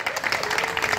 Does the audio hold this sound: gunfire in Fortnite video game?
no